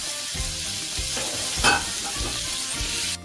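Bacon fries in a pan with a dense, continuous sizzle and crackle, close and loud, with a few stirring or scraping sounds and a sharper pop midway.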